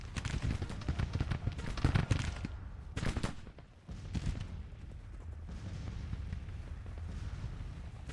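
Artillery and musket fire rumble in the Civil War strategy game Grand Tactician: The Civil War, a dense, continuous barrage of booms and crackling shots with a brief lull midway before the din resumes.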